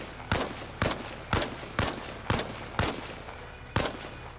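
Heavy .50 caliber machine gun in Arma Reforger fires seven evenly spaced single heavy shots at a steady, unhurried rhythm, each a sharp crack with a short ringing tail, with no talk.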